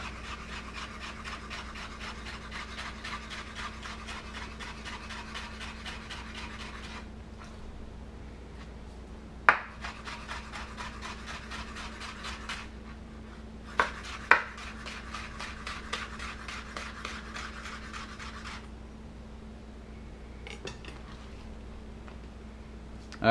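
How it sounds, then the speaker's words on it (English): A knife slices a bell pepper into thin strips on a board, making quick, even taps in long runs that pause briefly between passes, with a low steady hum behind. "Cut it across this way. And you're just going to cut it in thin strips."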